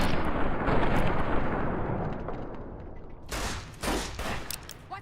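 Gunfire with armor-piercing rounds in the Fallout: New Vegas video game: a loud, dense burst of shots fills the opening seconds, followed by a few sharper separate cracks near the end.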